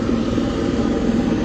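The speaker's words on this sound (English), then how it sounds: "got a helicopter about to take off over there, so it might get loud." A helicopter idles at a helipad by a ferry dock in Nanaimo, British Columbia, before takeoff, giving a steady, loud, dense rotor-and-engine rumble with no break.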